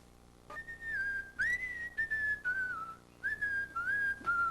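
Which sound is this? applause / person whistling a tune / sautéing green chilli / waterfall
person whistling a tune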